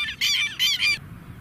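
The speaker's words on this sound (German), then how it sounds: "Der ist der Vogel, der das Geräusch hier abgibt." A bird at a freshwater sandy beach gives two loud honking, goose-like calls close by, each a brief harsh burst, followed by quiet.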